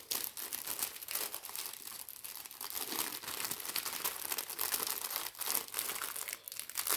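Plastic packaging around a padded suit jacket for a custom 1/6 scale Bruce Banner figure crinkles and tears steadily and up close, a continuous dense rustle with no talking.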